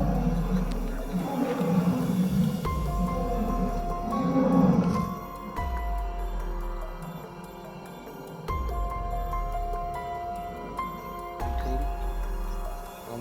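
Deep, rumbling roars of a lion lying about fifty metres away in Gir Wildlife Sanctuary, Gujarat, rising and fading in several bouts over background noise.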